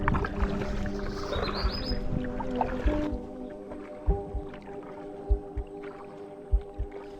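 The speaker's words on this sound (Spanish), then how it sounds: "Están preparando una kayak o canoa en ese río." A kayak or canoe is readied on a river in Kampot, Cambodia, with close paddle knocks and hull thumps, water sloshing, and a few scattered bumps in the quieter second half.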